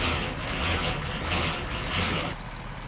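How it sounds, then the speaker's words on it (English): A Western Star 49X truck in American Truck Simulator idles with a low engine rumble, then releases a sharp hiss of its air brake near the end before the engine sound drops back. "Put the brake on."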